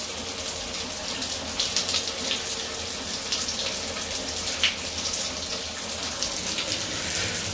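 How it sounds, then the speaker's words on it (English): Water sprays from a handheld shower head, hissing steadily and splashing everywhere in a small bathroom, close and continuous with no talk. "So I have to get into the shower, unhook it, and then turn it on so I can control where it's splashing everywhere."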